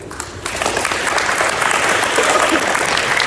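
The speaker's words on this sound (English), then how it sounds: "give your parents a round of applause for having you in this school" Parents are applauded by the audience at a 7th and 8th grade academic awards ceremony, as sustained, even clapping quickly swells and holds at full volume.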